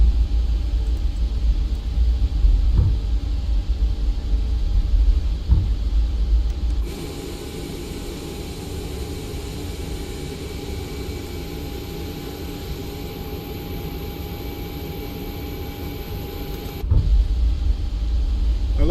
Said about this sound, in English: Chad, we taxiing fast. We taxiing quick